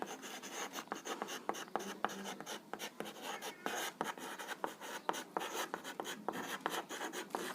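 A teacher's pen or chalk writes out a maths formula during a Class 10 lesson on solving quadratic equations by the Sridharacharya formula, giving steady, close scratching and tapping strokes in irregular bursts throughout.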